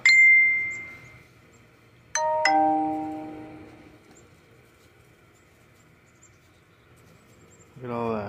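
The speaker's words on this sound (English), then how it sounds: "I gotta disable these notifications. That shit's loud, man." Two loud notification dings sound a couple of seconds apart, each a bright bell-like tone that rings out and slowly decays, with near-silence between them and a short burst of other sound at the end.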